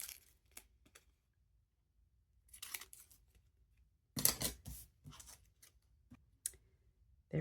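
Scissors trimming paper for a craft project make soft, sparse snips and clicks, a few short bursts scattered over several seconds in a quiet room.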